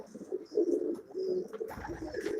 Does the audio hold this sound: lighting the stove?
no